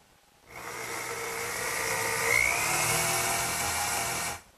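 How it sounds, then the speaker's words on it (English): A power drill with a 1/4-inch brad point bit bores dowel holes for a drop leaf table, a steady whining drill sound that runs continuously for about four seconds at close range, with no talking. "I've marked out the location where I have to drill the holes. And I'll use a brad point bit"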